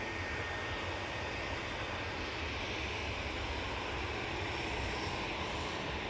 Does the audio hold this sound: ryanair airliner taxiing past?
yes